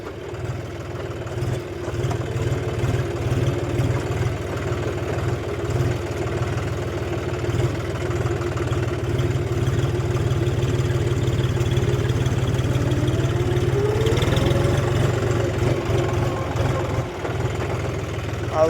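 A farm tractor engine idles steadily close by, a continuous low rumbling drone with a slight rise partway through and no voices.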